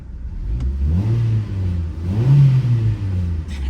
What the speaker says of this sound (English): Let's give it a little rev, see how it sounds.